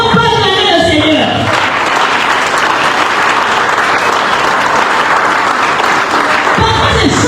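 A church congregation at a French-language prayer camp breaks into loud, sustained applause and cheering that carries on without a break for several seconds, with a voice heard briefly at the start and again at the end.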